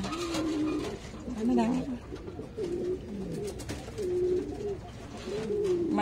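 Pigeons being sold at a Vietnamese home breeder's coop, including large breeds, coo in repeated low throaty phrases close by, with someone talking over them throughout.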